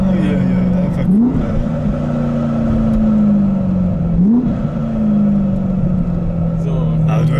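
A 700 hp G-Power tuned BMW E92 M3 coupé engine revs loudly and close, its pitch climbing in two sharp blips near the start and again midway, then settling into a steady droning hold, while people talk over it.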